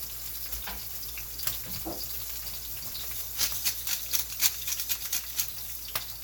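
Seafood patty sizzling in a frying pan as a spatula presses it down, a steady soft crackle with scattered sharp pops and scraping taps growing busier toward the end, no talk.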